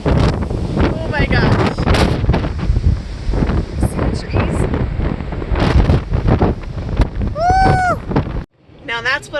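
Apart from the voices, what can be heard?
strong wind buffeting an RV trailer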